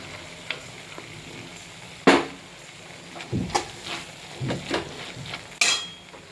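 Grated coconut fries quietly in a pan on low flame while a utensil scrapes and stirs, giving scattered knocks and clatters over a faint sizzle.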